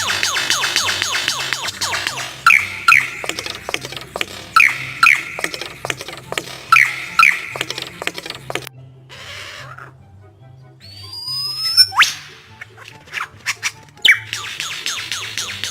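An Australian superb lyrebird runs through a rapid string of mimicked sounds: mechanical clicks, whirring trills, laser-like zaps and descending whistles, loud and close, with brief pauses.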